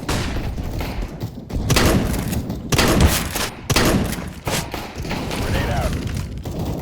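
A flashbang grenade detonates in the game CS:GO amid ongoing gunfire, with several loud bursts and thuds repeating through a busy, dense firefight.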